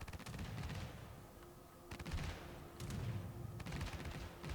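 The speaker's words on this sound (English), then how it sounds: "I'm enjoying like the nice AA fireworks here from the Benson." Anti-aircraft fire from the destroyer Benson in World of Warships, a rapid crackling run of gun bursts in several volleys with short gaps, at moderate loudness.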